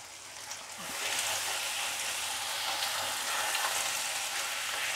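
Ground spice paste hits hot oil in a pan of frying gathi kochu curry vegetables in a Bengali home kitchen, a dense, steady sizzle that swells after the first second and holds, close and alone.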